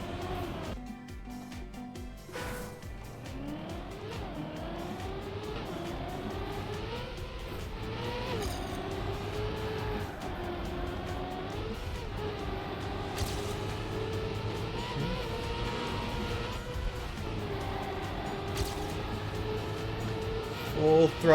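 Trackmania race car engine at full throttle, a sustained whining drone that climbs and falls in pitch through gear changes and corners, with a few clicks and brief scraping bursts.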